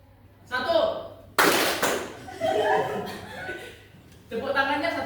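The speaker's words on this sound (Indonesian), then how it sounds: "Kalau angkanya ganjil, tepuk tangan." A short burst of hand claps rings out in a classroom counting game, where odd numbers get a clap, surrounded by a teacher's counting and children's voices.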